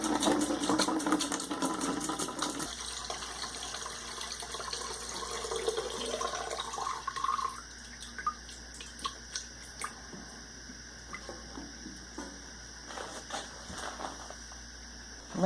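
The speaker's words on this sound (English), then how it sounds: "the first thing we're going to do is pour our mineral spirits into this bucket" Mineral spirits poured from a container into a 2.5 gallon bucket, a steady liquid splash and gurgle for about seven seconds, then trailing drips and small knocks at close range with no talking.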